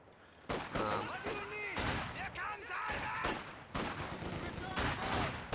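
Rapid bursts of machine gun fire from a real-time strategy game battle, crackling in dense volleys with other gunfire and explosions, while commentators talk over the action.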